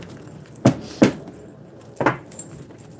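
Tarot cards being shuffled up close, three or four crisp riffling bursts separated by short pauses, fairly loud with no voices over them.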